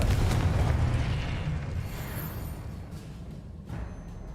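A Confringo fire spell explosion in Hogwarts Legacy, a loud, broad rumbling burst that fades slowly, with a smaller pop near the end.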